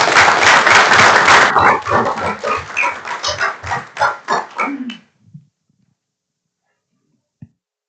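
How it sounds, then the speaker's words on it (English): Applause in a city council meeting room for emergency dispatchers, loud and dense at first, thinning into scattered claps before dying away to near silence with one last faint clap. "Let's give them a round of applause."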